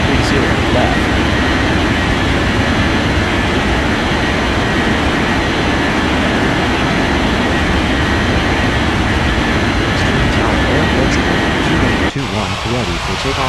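Japan Air airliner rolling for takeoff in Unmatched Air Traffic Control: a steady, loud broadband jet engine roar holds throughout, dropping off sharply near the end.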